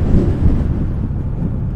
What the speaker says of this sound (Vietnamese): gió quá to luôn